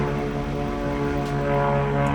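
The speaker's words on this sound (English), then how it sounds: "another plane going by" A propeller airplane passing overhead, its steady droning engine hum continuous and fairly loud throughout, with no talk.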